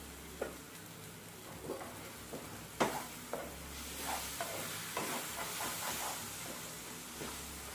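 Tomatoes soften in a hot pan for a dry-chilli pickle, a soft steady sizzle with scattered scraping stirs and taps of a spoon, quiet and close.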